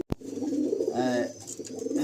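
Malbai pigeons in a loft give soft, throaty coos, one fuller call in the middle rising over a low murmur, close and fairly quiet.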